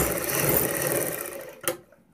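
A sewing machine stitches a salwar bottom in a steady whirring run for about a second and a half, then stops with a sharp click, close and moderately loud with no talking.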